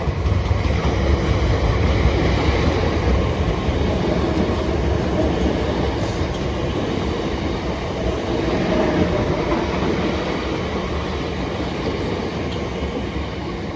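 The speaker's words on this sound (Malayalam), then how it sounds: "അവിടെ നിന്ന് ഒരു ട്രെയിൻ വരുന്നുണ്ട് കേട്ടോ" A train rumbles past at close range, a continuous loud roar of wheels and carriages that holds steady for the whole stretch.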